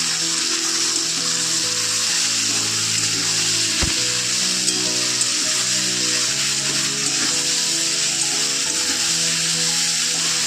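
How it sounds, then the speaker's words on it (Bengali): A paste of cumin, chili, coriander and turmeric fries in hot oil for a chala fish curry, giving a loud, steady sizzle. An occasional scrape of stirring cuts through, and no one speaks. "মশলা দিয়ে খুব ভালো করে কষিয়ে নিয়েছি মশলা থেকে তেলও ছেড়ে দিয়েছে"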